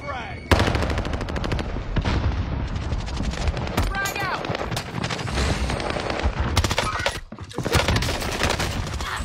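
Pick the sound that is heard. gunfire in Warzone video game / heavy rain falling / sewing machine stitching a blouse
gunfire in Warzone video game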